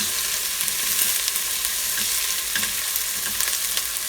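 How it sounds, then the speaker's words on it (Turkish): Onion and celery sautéing in a pot for borscht, a steady dense sizzle with a few soft stirring clicks, close and continuous with no talking. "sırasıyla sebzeleri ilave ediyoruz, soteliyoruz"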